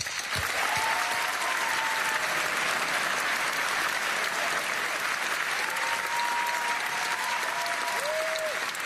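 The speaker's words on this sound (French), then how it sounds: "Je vous demande d'applaudir Alex Vizorek, s'il vous plaît" A theatre audience at a Christmas comedy show gives comedian Alex Vizorek a long, dense round of applause, loud and continuous, with a few cheers and whistles rising above the clapping.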